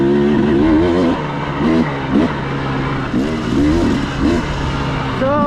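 A carbureted KTM 300XC-W two-stroke dirt bike engine revs loud and close, rising in pitch again and again as the throttle is twisted hard while riding.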